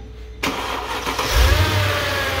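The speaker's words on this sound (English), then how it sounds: "Try to start again. I want to hear it again." A 2005 Mercedes E55 with 165k km is started after a silent pause: the starter engages abruptly, then the engine catches and settles into a steady, close, loud idle with a deep low rumble and no talking.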